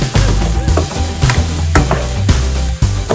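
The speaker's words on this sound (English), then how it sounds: "We mix it all together with the onions" Garlic, onions and other chicken afritada ingredients stirred in a hot pan, a loud steady sizzle with repeated scraping and clinking strokes of a utensil against the pan, close up and continuous.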